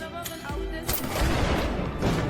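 Gunshots ring out in a film scene, several sharp cracks and bursts spread over a couple of seconds against a busy, reverberant background.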